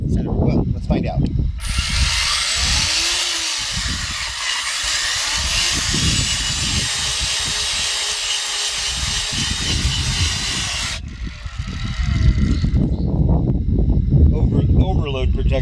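An 18 volt cordless auger digs a hole in the ground, its motor whining steadily for about nine seconds before cutting out, with a person talking before and after and bursts of handling noise.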